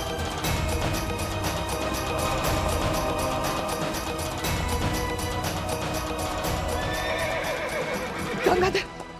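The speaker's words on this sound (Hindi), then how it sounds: "इसी तरह तेज रफ्तार से घोड़े को चलाती थी।" A horse galloping at high speed, with rapid, regular hoofbeats pounding throughout under a busy dramatic soundtrack, ending with a close, loud neigh.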